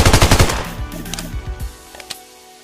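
A burst of rapid automatic fire from a Famas rifle in PUBG Mobile, loud and close, followed by a few scattered single shots and echoing tails that fade out.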